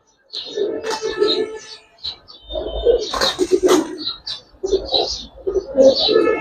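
Giribaz coloring high-flyer pigeons coo repeatedly at close range, soft throaty calls overlapping in uneven bursts with brief pauses between them.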